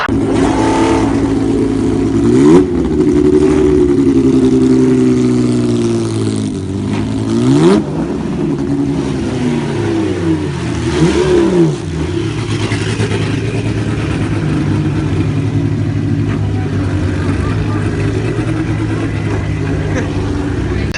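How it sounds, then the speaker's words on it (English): A V8-powered Toyota NASCAR stock car at the Goodwood Festival of Speed revs hard and spins its wheels, with a loud sustained engine drone, repeated throttle blips and pitch swoops, and a commentator talking over it. "he's still chucking that NASCAR around, spinning the wheels and kicking out smoke from the back of the V8 powered Toyota"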